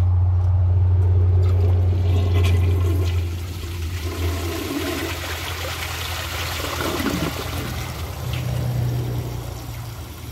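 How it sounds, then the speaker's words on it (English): A 2001 Kohler Wellworth toilet flushes up close with a loud, rushing gush that drops after a few seconds into a softer, steady trickle and refill, with no one speaking. "So let's give it a flush and then do some tests."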